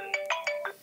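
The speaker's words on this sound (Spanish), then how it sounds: "Apaga el teléfono, don Roberto." Mobile phone ringtone going off during a Spanish talk-show interview, four short bright melodic bursts in quick succession, moderately loud and close, with no talking over it.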